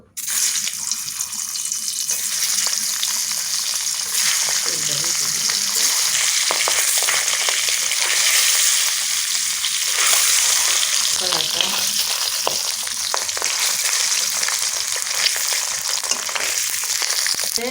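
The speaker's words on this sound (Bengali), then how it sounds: "ডিমটা এখন তেলে দিয়ে দেবো" A boiled egg frying in oil in a hot kadai, a steady, fairly loud hiss and crackle that runs throughout.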